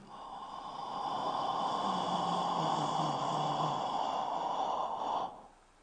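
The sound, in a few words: slow deep breathing in during breathing exercise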